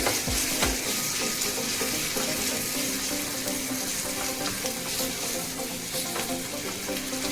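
Garlic tempering sizzling in hot oil over a dhaba-style whole masoor lentil curry, a loud, dense, continuous hiss and crackle heard up close with no voices.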